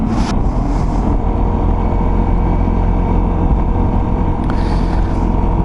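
A Vespa LX125 scooter engine drones loudly and steadily throughout, with a steady hum of motor and road noise and no talking.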